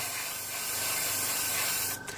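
Short, steady hiss of an airbrush spraying close by, ending in a quick sharper puff of air.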